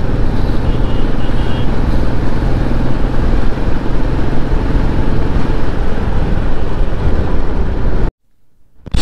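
Royal Enfield Classic 350 and an NS motorcycle riding on a forest road, heard as loud, constant engine drone mixed with heavy wind buffeting close to the microphone, cutting out abruptly near the end.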